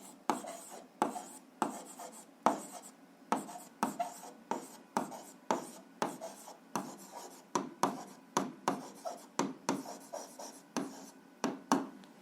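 A pen scratches out an algebra answer in quick repeated strokes, each short scrape followed by a brief pause, close and quiet with no talking.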